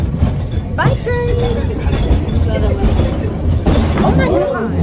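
A train rumbles past nearby with a loud, steady roar and squealing metal, while people talk excitedly over it.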